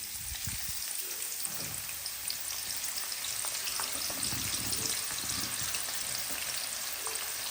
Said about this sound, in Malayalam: ഇനി നമുക്കിതിലേക്ക് കുറച്ച് ഉള്ളി ഇട്ടിട്ട് വറുത്തെടുക്കാം.